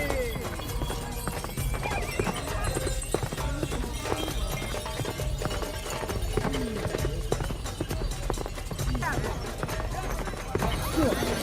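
Horses galloping at the Pasola festival, a mounted ritual battle between two groups of riders hurling wooden spears, with a dense, constant rumble of hooves, whinnies and a loud crowd roar throughout, voices mixed in.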